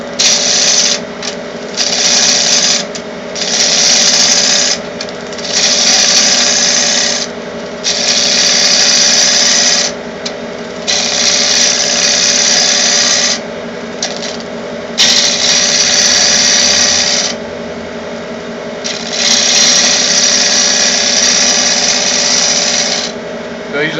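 Wood lathe rough turning with a gouge cutting at the corner of a bowl blank, tool handle held low: a steady motor hum under repeated bursts of high scraping cut, each lasting a couple of seconds with brief pauses between strokes.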